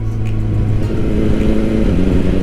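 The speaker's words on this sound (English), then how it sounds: "Upshifts with no issues." A 2021 BMW S1000R motorcycle engine runs hard and loud and close by, its pitch rising and then stepping as it shifts up through the gears with the quick shifter, with steady wind rush behind it.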